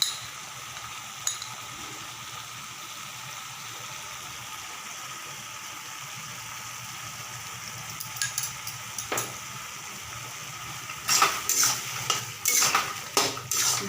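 Fried spices go into a pan of bottle gourd and prawn curry, followed by metal spoon scrapes and clinks against the pan that grow busier toward the end, over a low steady background hum.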